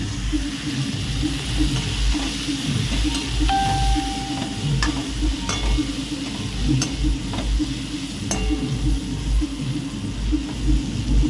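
Salt is stirred into guar bean curry frying in a pan, with a loud continuous sizzle under repeated spoon scrapes and clinks against the metal.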